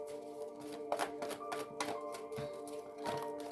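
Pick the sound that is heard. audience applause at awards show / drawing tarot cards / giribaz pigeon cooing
drawing tarot cards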